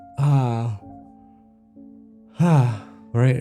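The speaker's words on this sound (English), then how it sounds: "nice yawn." A single drawn-out yawn with a rising then falling voiced tone, followed after a pause by two more short breathy vocal bursts.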